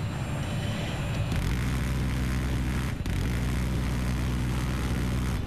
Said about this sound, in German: Ah, der Heli.